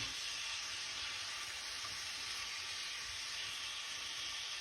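Venison heart steaks sizzle in a hot pan after being flipped, a steady, even hiss of frying that holds at the same level from start to finish with no talk over it.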